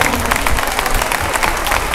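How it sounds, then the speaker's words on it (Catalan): Loud, steady applause from a crowd at Lleida's traditional Corpus festival, honouring the Lleó de Lleida festive figure, with dense continuous clapping throughout. "Un fort aplaudiment"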